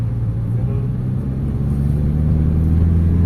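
A car's engine idles steadily after a carburetor repair that fixed rough running and hard starting, a close, even low rumble running throughout with faint voices in the background.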